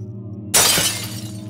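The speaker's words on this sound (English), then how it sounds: "I like smashing glass." Glass smashing in the horror game Amnesia, a single sudden, loud crash followed by a short scatter of falling shards that fades quickly.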